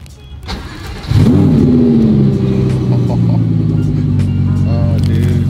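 A twin-turbo 1,200 hp Lamborghini engine fires up and revs, rising sharply into a loud, close, throaty roar that settles into a steady rumbling idle with small blips.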